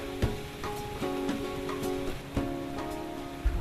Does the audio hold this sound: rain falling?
yes